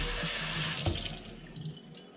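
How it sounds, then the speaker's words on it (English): Tap water runs steadily over a Revere Ware pan being rinsed, a close, continuous splashing rush with slight shifts as the pan moves under the stream. "so we're gonna rinse this off"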